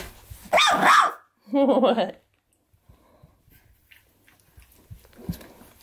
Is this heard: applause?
no